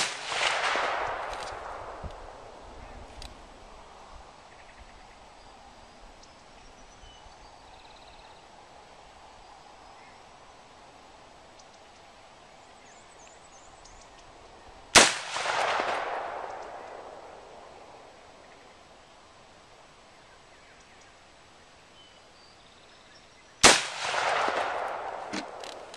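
Rifle fire at an outdoor shooting range, with Hornady Steel Match ammunition in a Del-ton rifle fitted with Magpul MOE furniture: three loud, sharp, widely spaced shots, each followed by a long echoing decay in quiet surroundings.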